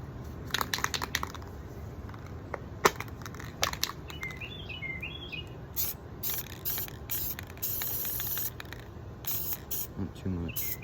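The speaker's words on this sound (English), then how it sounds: "I just gotta spray paint that little area." A can sprays tan paint onto a Stahlhelm helmet for a Normandy camouflage scheme, giving short hissing bursts between clicks and small rattles, close and moderately loud.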